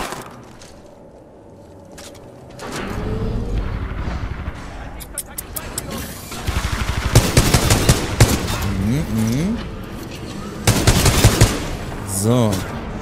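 Gunfire from the Titanfall 2 campaign on PS4 rattles in rapid automatic bursts and sharp single shots, loud and near, with someone talking over the action.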